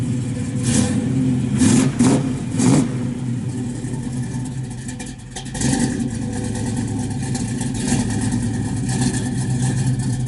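A 1967 Chevrolet Chevelle SS 396 V8 with a four-speed and an aftermarket camshaft runs steadily with a deep rumble, revving up a few times in short bursts before settling back, close by with no talking.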